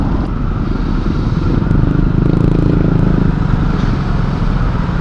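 A rented motorcycle is ridden through Cebu City, its engine droning loud and close with a steady rising rev, wind and road clatter mixed in, no voices.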